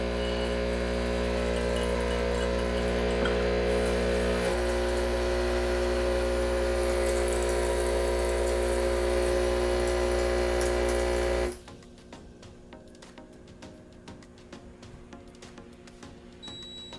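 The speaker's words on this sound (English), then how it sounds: "you will see the water coming out of the steam wand" A Breville Barista Pro espresso machine runs water through its steam wand during descaling, a loud steady pump hum with hissing flow that stops abruptly, leaving a quiet room.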